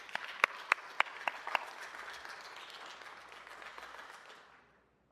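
At a city council meeting, the room applauds the Consul General of Japan. Several sharp, close claps land early over a softer spread of clapping that thins out and fades to near silence.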